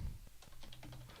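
Keys clatter on a computer keyboard as a web address is typed, a quick run of sharp close clicks in an uneven rhythm over a low hum.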